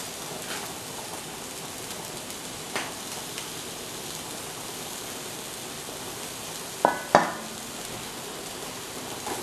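Grated coconut with bay leaves, turmeric, coriander powder and shallot roasting in a pan, a soft, even sizzle with a few sharp scrapes and clinks of a spatula near the end.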